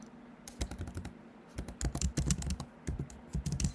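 Python code being typed on a computer keyboard, a close, steady patter of key clicks in quick bursts with short pauses, ending in a firmer keystroke like the enter key.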